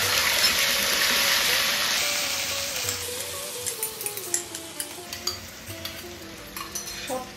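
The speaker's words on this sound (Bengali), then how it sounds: "সর্ষের তেলটি বেশ গরম হলে, যখন বুঝলাম গরম হয়ে গেছে, প্রথমেই আমি লাউ পাতা বাটাটা দেব।" Bottle gourd leaf paste hits hot mustard oil with a loud, hissing sizzle that gradually eases, followed by rhythmic spoon-against-pan clinks as the paste is stirred.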